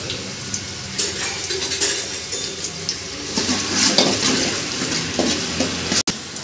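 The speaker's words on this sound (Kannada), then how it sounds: "ಈರುಳ್ಳಿ ಹಾಕೋಬೇಕು ಎಣ್ಣೆ ಎಲ್ಲ ಚೆನ್ನಾಗಿ ಕಾದಿದೆ ನೋಡಿ" Onion frying in hot oil in a pan for mushroom curry, a steady close sizzle with scraping stirs and light clatter of the pan throughout.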